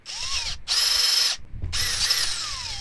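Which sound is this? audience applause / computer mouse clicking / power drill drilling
power drill drilling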